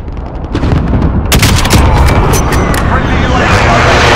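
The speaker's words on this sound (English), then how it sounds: "Friendly precision airstrike inbound." Precision airstrike in a first-person shooter game, a dense barrage of loud booms and blasts rolling over each other for several seconds, heavy and close.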